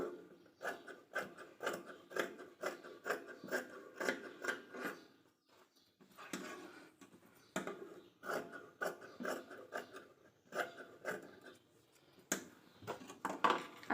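Scissors trim excess fabric from the sewn border of a blouse in a series of steady, close rasping snips, pausing briefly midway before resuming.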